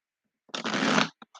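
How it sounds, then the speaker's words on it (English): A deck of tarot cards is given a quick riffle shuffle, a single close, crisp burst of flicking cards followed by two soft taps as the deck settles. "I've got one more shuffle"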